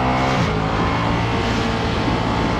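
Ducati Streetfighter V2 motorcycle engine running loud and steady, with a dense, continuous roar and a slight shift in pitch near the start.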